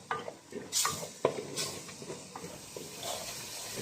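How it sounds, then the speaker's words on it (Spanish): Seasoning base of a Peruvian quinoa stew sautéing in a pan, a soft steady hiss with occasional scrapes and clinks of a utensil stirring against the pan, faint and close with no talk. "Ya he estado acá sofriendo, dándole vuelta a nuestro aderezo"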